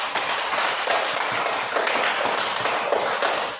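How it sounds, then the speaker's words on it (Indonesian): Audience members in a classroom clap their hands together in dense, steady applause that stays loud for several seconds and carries almost no talking. "Kita berikan tepuk tangan"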